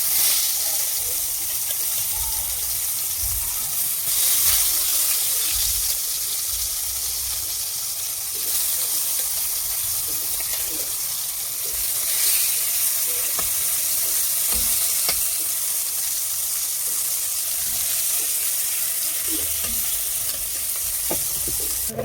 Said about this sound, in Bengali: বেগুন দিচ্ছি, বেগুন ভাজা হবে।